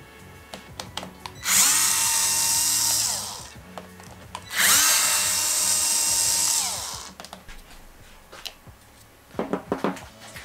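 A power drill or driver backs out the four screws on a water pump's pressure control switch, two long whirring bursts of a few seconds each with short clicks and handling noises between and after, close and loud with no talking.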